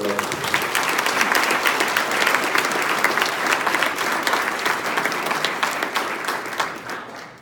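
An audience at a paleobiology symposium applauds with sustained, dense clapping that fades slightly near the end.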